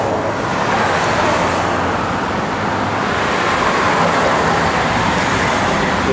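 A 1969 Pontiac Firebird convertible on the road: a loud, steady rush of road and wind noise with a low engine drone underneath, unbroken throughout.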